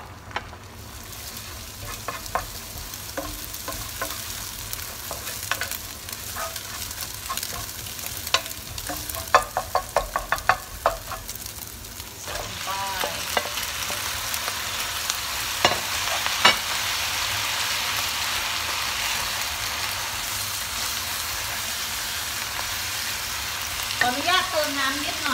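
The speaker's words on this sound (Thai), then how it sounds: "ใส่ไข่ลงไปผัดค่ะ ผัดไข่ให้สุกเดี๋ยวตามด้วยจานนี้เลยค่ะ" Egg being stir-fried with fried garlic in a pan, a steady sizzle with scraping stirring strokes throughout, loud and close, with no talking.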